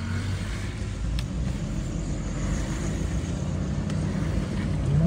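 A car engine rumbles low and steady from inside the moving vehicle, a continuous drone that swells slightly toward the end, with no voices over it.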